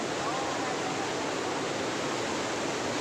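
Strong river current rushing past in a village, a loud, continuous broadband roar of flowing water, close and unbroken throughout.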